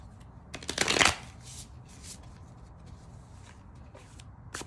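A Tongue of the Mother tarot deck being shuffled: a short, crisp flurry of riffling cards near the start, then soft scattered taps and handling noises in a quiet room.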